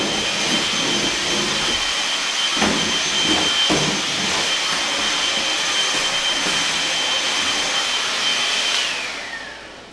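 A Bauer 20V hand vacuum runs steadily with a loud, close, high whine and hiss, broken by a few rattling knocks of debris going up the tube, before the motor winds down near the end.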